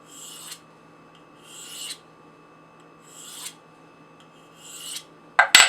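Four even rasping strokes of a knife edge drawn along a Spyderco Sharpmaker fine ceramic rod, spaced about a second apart and close up, then a sharp metallic clatter at the end; the knife is a Benchmade 710 with a D2 steel blade.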